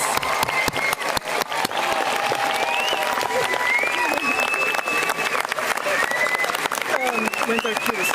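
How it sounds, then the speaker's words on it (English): Sustained applause from a large crowd at a Voorhees High School Class of 2021 graduation ceremony for high honor graduates, dense steady clapping with voices and faint cheers mixed in. "please join me in a large round of applause for the Voorhees High School Class of 2021 High Honor graduates"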